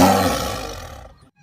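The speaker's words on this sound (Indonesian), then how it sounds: "Ada harimau." A single loud tiger roar bursts out at the start and fades away over about a second, leaving near silence.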